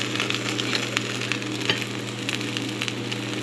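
Vietnamese banh xeo pancake sizzling and frying in hot oil in a pan, a steady close crackle with brief sharper ticks as a spatula lifts the batter.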